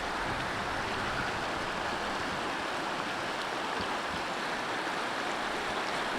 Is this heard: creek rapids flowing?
yes